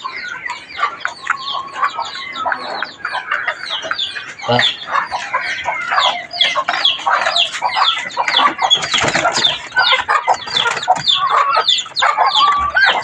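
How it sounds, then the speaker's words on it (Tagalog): A flock of chickens clucks busily and continuously, with a rooster crowing mixed into the dense, close farmyard chatter. "Daming alagang manok."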